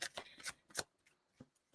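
Quick, crisp riffles of tarot cards being shuffled close up, a few rapid bursts that then taper to soft taps.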